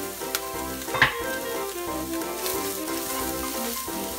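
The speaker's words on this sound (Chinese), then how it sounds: "加入葱丝煸炒几下" Shredded scallions tossed in a hot wok with oil, a steady sizzle broken by a few scraping stirs and one sharp clatter near the start, close and moderately quiet, without talk.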